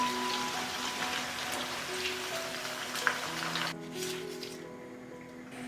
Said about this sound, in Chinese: 把虾炸到酥脆就可以捞出来